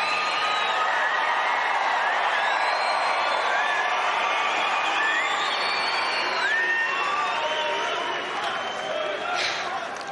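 A stadium crowd at an Australian Open tennis match cheers and whoops steadily for ten seconds, loud and sustained, with a voice speaking over it.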